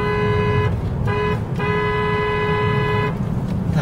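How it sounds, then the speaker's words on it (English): A car horn honks in three bursts, a short toot, a second short toot, then a long sustained blast, loud and close over steady road and engine rumble. "Should we give him a honk?"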